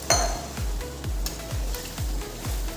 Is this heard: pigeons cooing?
no